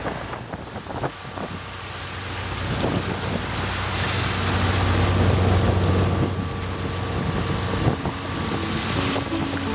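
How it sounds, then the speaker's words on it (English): Strong 30-knot wind roars across the microphone aboard a sailboat at sea, with waves and rushing water beneath, a steady loud gusty blast that swells in the middle and carries on without any talking. "We've got 30 knots of wind and we're averaging like 10 knots speed."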